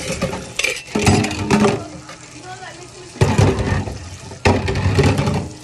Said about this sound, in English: Don't you see me wash the dishes?